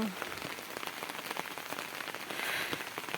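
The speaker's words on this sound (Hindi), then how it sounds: "हमारे हिमाचल में बहुत बारिश हो रही है।" Heavy monsoon rain pours down in a Himachal village, a dense continuous patter drumming on surfaces close by, swelling slightly louder toward the end with no voices.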